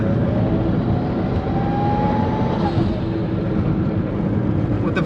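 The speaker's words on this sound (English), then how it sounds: "With the valve closed, it's great because all you hear is turbo now. You don't hear the exhaust at all. All you hear is the spooling." A Mitsubishi Evo with its exhaust valve closed drives along, a steady low engine rumble topped by a rising whistle of the turbo spooling, fairly loud and constant throughout.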